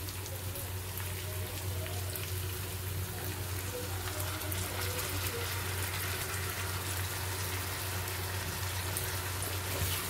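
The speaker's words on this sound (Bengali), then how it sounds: "এখানে আমি হালকা করে জল দেবো যাতে মশলাটা মাংসের ভিতরে ঢুকতে পারে" Water is poured into chicken masala cooking in a pan, giving a continuous hissing, bubbling sizzle with a low steady hum beneath, close and even throughout.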